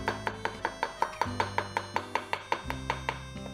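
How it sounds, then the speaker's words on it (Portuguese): A knife chops charred eggplant pulp on a board in about fifteen sharp, evenly spaced strikes, close and crisp, with low background hum and no talk. "Agora é só cortar, fazer assim, ó, com a faca."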